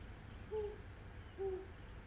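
An owl hoots twice, two soft, short calls about a second apart, faint over a low background hum in a quiet, calm setting.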